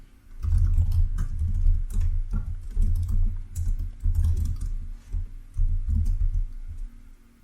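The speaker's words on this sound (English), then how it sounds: "Let me type it and I will explain this" Code being typed on a computer keyboard, a close, continuous stream of rapid key clicks in uneven bursts with brief pauses, no talking.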